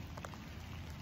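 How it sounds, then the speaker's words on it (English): Steady rain falls in an old pioneer cemetery, a soft, even patter of drops on surfaces, faint and continuous with no voices. "it's raining"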